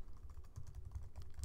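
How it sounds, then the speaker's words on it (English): Java code being typed on a computer keyboard, a steady run of soft, close keystroke clicks with no voices. "So to import it, I'm going to type import"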